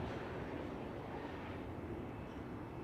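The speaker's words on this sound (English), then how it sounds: "Indigo Dreamliner back to Mumbai" An Indigo Boeing Dreamliner airliner at Amsterdam Schiphol Airport produces a steady, distant broadband engine roar, faint and unbroken, with no other sounds standing out.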